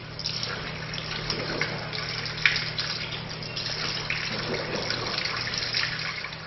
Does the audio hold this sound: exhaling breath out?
no